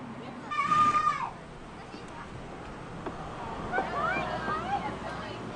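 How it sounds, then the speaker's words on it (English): A sheep bleats once loudly while being fed during a farm visit with pony rides, followed by a voice and further faint bleats over outdoor background noise. "Oh, you're feeding a sheep?"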